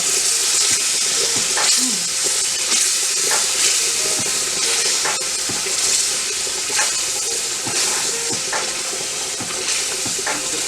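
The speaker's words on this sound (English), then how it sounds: "I'm gonna keep whisking. Get all that flour off the side." Flour being whisked into oxtail gravy in a pan, a steady scraping and stirring with soft sizzling underneath, continuous and close with periodic clicks of the whisk against the pan's sides.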